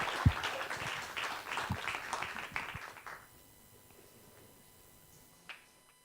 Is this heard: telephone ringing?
no